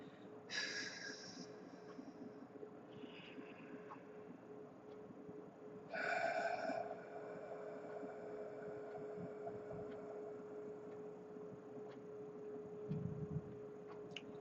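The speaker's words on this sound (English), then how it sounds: "So exhale a little bit and then inhale." A person doing a deep breathing exercise exhales and inhales in long, close airy breaths, with two stronger rushes of air over a low, constant mains hum.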